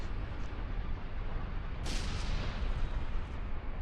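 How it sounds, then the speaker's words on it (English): Turret fire in End of Nations, a steady, noisy rumble of distant shots with one sharper blast standing out midway, continuous and moderately loud with no talking. "then control fire with the turrets"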